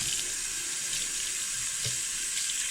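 Cool tap water runs steadily from a faucet, a continuous hissing splash at moderate level with no talking.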